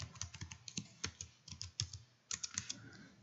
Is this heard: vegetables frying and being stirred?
no